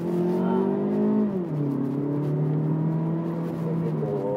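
A Mazda with a torque-converter automatic accelerates at full throttle, its engine drone steady and loud inside the cabin, with a brief dip in pitch as the gearbox shifts before the tone climbs again.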